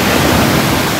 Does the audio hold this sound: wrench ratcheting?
no